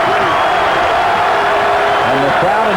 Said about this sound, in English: And the crowd in Assembly Hall starting to get into it.